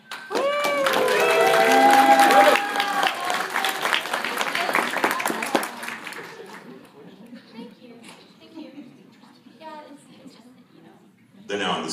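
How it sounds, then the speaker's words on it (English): Convention audience at a voice actor theater panel breaks into loud, dense applause that swells for several seconds, then fades away as talking continues. "Another applause for the cackle."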